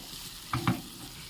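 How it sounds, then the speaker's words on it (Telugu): A spoon stirs broad bean masala gravy in a pan over medium heat, making two quick, close scraping strokes in succession against a quiet background. "మీడియంలో పెట్టుకొని కలుపుకోండి, మసాలా మాడుకోకుండా వస్తుంది."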